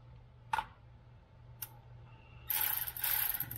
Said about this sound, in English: Let me get my ratchet set up.